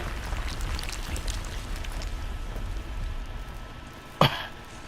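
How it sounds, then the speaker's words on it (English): A person gives a single sharp cough near the end, close and loud, over a background of video game sound effects and ambient noise. "I actually had to cough right there."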